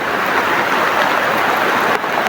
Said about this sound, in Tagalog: So grabe yung ulan.